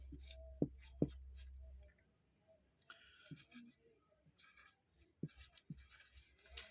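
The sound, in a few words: writing with pen on paper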